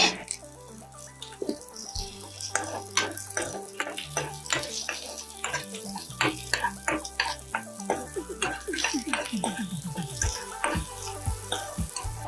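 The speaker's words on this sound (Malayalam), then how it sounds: "ഇത് ആ എണ്ണയിലോട്ട് നമുക്ക് ഇട്ട് കൊടുക്കാം എന്നിട്ട് വഴറ്റി കൊടുക്കണം" Shallots and green chillies sauté in hot coconut oil for a pumpkin pulinkari, a sizzling fry broken by frequent rhythmic scrapes and taps of a stirring spoon against the pan over a low hum.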